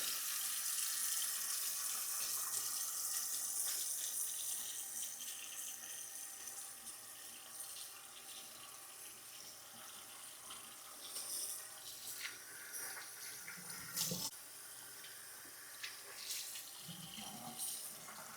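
Tap water runs steadily into a bathroom sink during an evening face wash with a gentle cleanser, a continuous close hiss with occasional splashes and small bumps, no talking.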